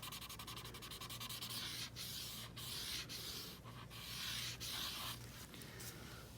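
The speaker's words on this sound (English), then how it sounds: "So I'm just taking that and kind of rubbing it along the edges" A Q-tip rubs along the edges of a zen doodle drawing, giving a faint, continuous soft scratchy brushing with brief pauses between strokes.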